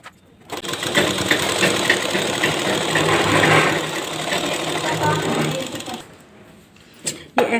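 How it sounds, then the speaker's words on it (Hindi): A sewing machine runs steadily for several seconds while stitching ladies pant fabric, loud and close with a rapid mechanical whir, then stops and leaves a few faint clicks. "अब इसको हम पूरे कपड़े को इस तरीके से सिल लेते हैं।"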